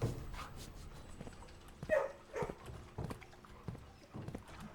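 A dog in the video game Blue Prince gives short barks and whimpers amid clopping, game-like footsteps, with a voice speaking briefly over it.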